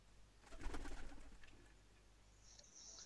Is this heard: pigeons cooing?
yes